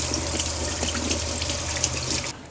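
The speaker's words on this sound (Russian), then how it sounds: "Мы их смываем. Хорошенько-хорошенько промываем." Fish being rinsed under a running kitchen tap after soaking in a vodka marinade, a steady close splashing stream into the sink that cuts off near the end.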